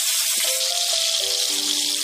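Salted, turmeric-rubbed fish fry in very hot oil in a kadai, giving a loud, continuous hiss and sizzle with faint bubbling underneath.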